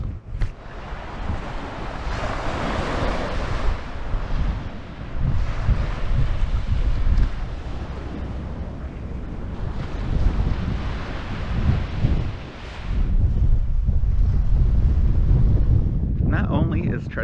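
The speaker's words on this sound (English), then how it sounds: "it's pretty windy" Wind and ocean waves on Treasure Island beach in Florida, heavy wind buffeting the microphone over rolling surf, loud and gusty throughout with low rumbling bursts.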